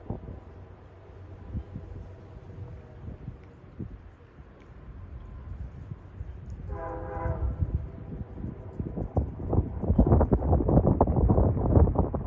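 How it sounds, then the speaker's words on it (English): Amtrak 238 passenger train passing along the Hudson River on a chilly day: a low rumble under wind noise builds steadily, a brief multi-tone horn sounds midway, then the train roars loudly past up close. "That's Amtrak 238 from Albany Rensselaer to Penn Station, New York, with another nice sounding horn."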